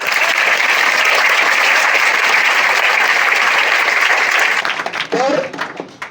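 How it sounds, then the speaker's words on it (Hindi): Sustained dense applause from a large audience honoring a teacher at a student felicitation ceremony for toppers in Bihar, loud and steady before tapering off near the end as a voice breaks through. "सर के लिए ताली नहीं बजाओगे?"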